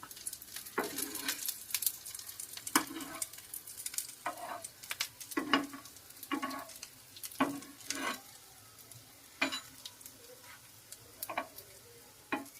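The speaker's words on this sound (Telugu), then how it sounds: "ఒక్కొక్కటి ఇలా జరుపుకుంటూ వేయించుకోవాలన్నమాట." Puffed rice (murmura) cutlets sizzle quietly in oil in a pan. Soft clicks and taps come at a steady pace as the pieces are shifted one by one, with no talking.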